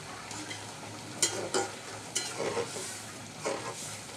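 A pot of masoor dal with dried fish (shutki) cooking on the stove, low bubbling and stirring sounds with a few soft clinks and splashes, close and fairly quiet, no voices.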